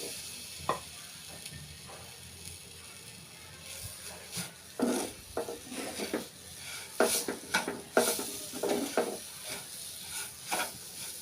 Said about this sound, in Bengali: সুজিটা আমার হালকা ভাজা হয়ে গেছে। এ পর্যায়ে আমি নারকেলটা দিয়ে দিচ্ছি।